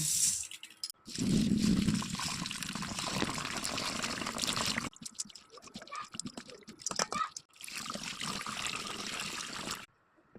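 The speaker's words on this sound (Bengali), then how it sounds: "চিরা আমি ফার্স্টে ধুয়ে নেব।" Flattened rice (poha) being rinsed in water, with splashy swishing and trickling in several bursts separated by short pauses, fairly close and moderately quiet.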